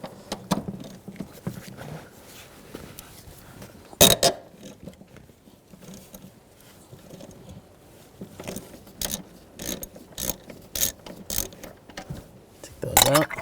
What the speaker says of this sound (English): Now we're going to take these two rear bolts out. We'll use the same E12 socket.